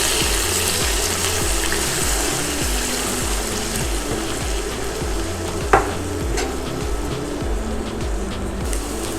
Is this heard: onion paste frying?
yes